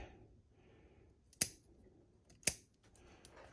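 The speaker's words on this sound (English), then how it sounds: "Going to take that one off of the base of that root, of that branch." Pruning shears snip through a crepe myrtle branch during recovery pruning, two sharp, close cuts about a second apart over quiet outdoor background.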